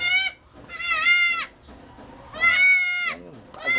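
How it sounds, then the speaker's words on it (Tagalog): A goat bleats loudly and close by in three long wavering cries, with short quiet gaps between them and another bleat starting at the end. "Yan yung bago kong kambing."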